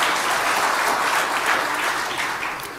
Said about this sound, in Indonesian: Tepuk tangan untuk Pak Nana,